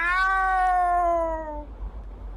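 A single cat meow, clear and close, rising briefly and then sliding down in pitch for about a second and a half before fading into quiet room noise.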